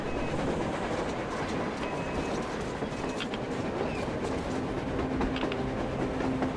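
A train rumbles past on the surface in the video game Metro Exodus, a loud, dense roar with rhythmic clatter of wheels on rails holding steady from start to finish, with no talking.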